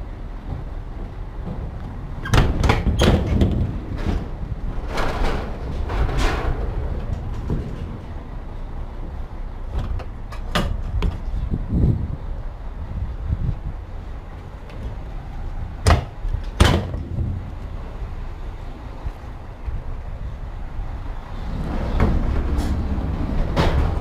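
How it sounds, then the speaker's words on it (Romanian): Metal truck trailer doors are opened, with loose latches and hinges giving several sharp clanks and bangs spread over a steady background rumble. "Hai să deschidem ușile cu mânușile mele murdare."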